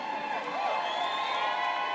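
A big crowd at a Chicago city council event cheers and whoops steadily, a continuous wash of voices and shouts that stays loud throughout.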